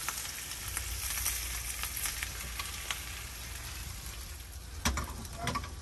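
Sausage and pasta sizzle quietly in a pot, a low, even frying hiss with scattered crackles and a couple of faint stirring taps.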